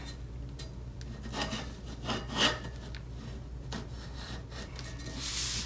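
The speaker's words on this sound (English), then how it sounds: "Cutting a straight edge cleanly, hopefully, through your fabric" Fabric being cut cleanly in a straight edge around a cup as it turns, giving faint, quiet rubbing and rasping scrapes in short uneven strokes over a low background hum.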